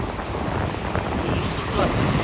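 Ocean waves washing onto the sand at Canggu beach in Bali, a steady broadband rush with heavy wind buffeting the microphone throughout.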